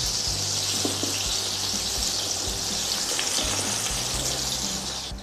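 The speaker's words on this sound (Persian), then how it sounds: "اجازه بدید دو طرف گوجه ها کاملا سرخ بشه و رنگ بگیره." Tomatoes fry in a pan for Iranian shami kebab, a steady close sizzle running throughout with faint clinks of utensils and no talk.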